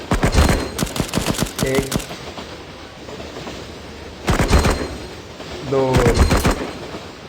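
Gunfire from the mobile shooter Cover Fire crackles in loud rapid bursts, three separate volleys of close automatic shots with quiet gaps between them, and a voice talks briefly over the action.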